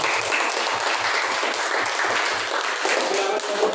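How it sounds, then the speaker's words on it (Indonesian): A classroom group claps together in a steady round of applause, with dull thumping taps mixed in as the clapping continues evenly. "boleh tepuk tangan"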